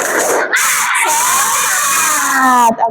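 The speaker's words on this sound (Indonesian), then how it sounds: "Tepuk semangat." A classroom of children do a tepuk semangat spirit clap, shouting a loud rhythmic chant together in a burst of raised voices up close.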